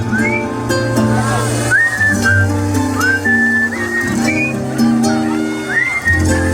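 Someone whistles a pop melody with sliding notes over a sustained musical backing at a Romani wedding, loud and close.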